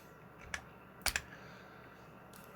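Typing on a computer keyboard while writing Arduino code, a few quiet, close key clicks in short bursts against faint background hiss.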